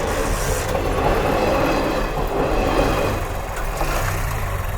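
Close by, a train rumbles past a closed level crossing gate, a steady heavy roar of rolling wagons holding at an even level for several seconds, with no speech.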